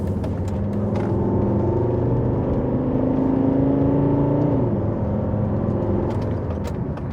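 A high-mileage Volvo XC70 climbing a very steep hill in sport mode, its engine droning steadily with a rising, sustained tone that holds for several seconds before easing off, heard loud and close from inside the car.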